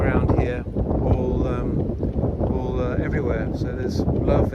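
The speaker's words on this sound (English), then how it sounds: "It's a bit windy, I might have to cut the soundtrack out" Wind blowing at a stone circle, gusting hard against the microphone in a rough, fluctuating rumble while a person talks over it.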